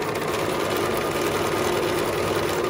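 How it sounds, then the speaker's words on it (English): Steady, close hum and rapid tapping of a sewing machine back tacking a seam on an embroidered face mask, running continuously at an even level with no talking. "so I'm just back tacking."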